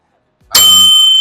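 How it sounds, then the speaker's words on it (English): A bright bicycle-style bell sound effect strikes once, loud and close, then rings on with a sustained metallic shimmer that fades slowly. "So this is also bell."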